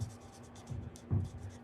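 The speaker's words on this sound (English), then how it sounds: "We're just coloring them in." A pen colors in a folded paper card, heard as faint, close scratchy strokes in short bursts, with one slightly firmer stroke near the end, quiet and without speech.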